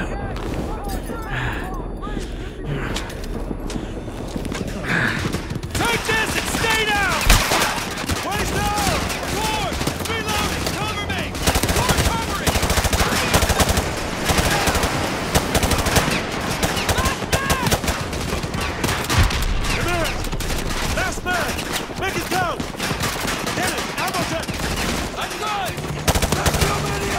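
Automatic gunfire in Call of Duty: Modern Warfare 2 Remastered, sustained rattling bursts from several weapons over nearly half a minute, dense and loud, with shouted voices and battle noise mixed in.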